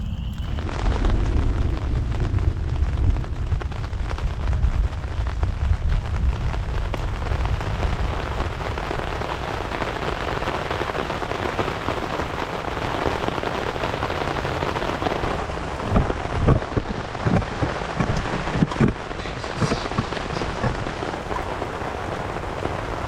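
Heavy rain pours steadily onto a camping tarp at an urban campsite during a thunderstorm, a dense, continuous roar throughout with a few sharper bursts and rumbles toward the end.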